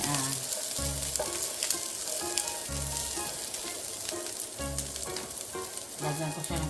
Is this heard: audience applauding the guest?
no